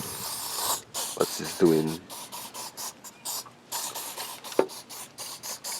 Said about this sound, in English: So I spray it on